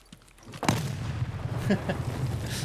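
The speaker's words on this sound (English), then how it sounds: "And I just threw a nade for some reason." A grenade explosion in Escape from Tarkov on the Shoreline map, one sharp boom followed by a rumbling, fairly loud tail.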